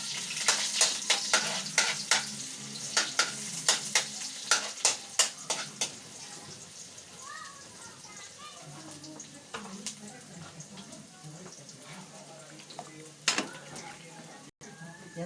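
Garlic and onion sauté in oil for a vegetable stir-fry: a quick run of sharp taps and clinks comes first, then a softer steady sizzle with faint background voice.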